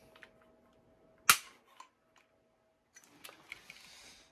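A Glock pistol trigger is dry-fired with an empty chamber and no magazine during a pull-weight test, giving one sharp, close click followed by faint, scattered mechanical ticks and handling noises.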